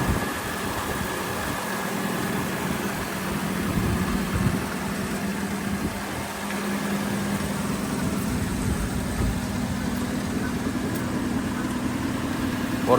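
A Mopar Tonner truck's engine idles steadily with a low, even rumble that holds throughout, no voices over it.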